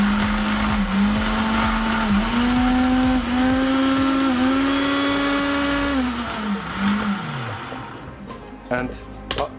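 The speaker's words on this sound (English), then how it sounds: "I will go from first gear up to fifth, just to compare the noise." A Silvercrest SSDMD 600 blender runs through its speeds from one to five, a steady loud motor whine that steps upward in pitch and then drops as it slows near the end.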